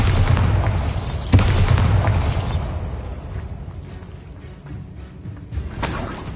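A Bombarda explosion spell cast in a Harry Potter video game: a loud booming blast with a sharp crack, then a rumbling tail that fades slowly over several seconds.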